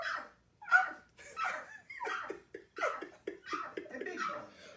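A person imitates a dog, giving a quick run of short, yappy barks and yips in an indoor room, moderately loud and close, with a little laughter mixed in.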